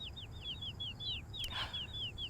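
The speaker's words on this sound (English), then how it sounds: "Birds chirping." Birds chirp outdoors in a quick run of repeated high, sweeping tweets over a low background rumble, fairly close and clear, with a short rustle partway through.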